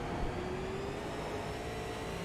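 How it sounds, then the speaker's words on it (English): Engines of short track race cars drone in a steady, dense wash, with a faint rising whine of wheel spin that sits distant and blended into the continuous racing noise. "You hear a little bit of the wheel spin."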